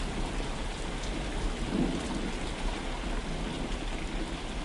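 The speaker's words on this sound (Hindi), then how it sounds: "कुछ ही देर में बारिश के साथ साथ ओले भी गिरने लगते हैं।" Heavy rain pours steadily onto a village setting as hail begins to fall, a dense continuous roar with low rumbling thunder underneath, no voices.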